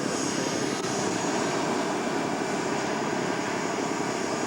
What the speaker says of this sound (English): Down and dirty flyby or?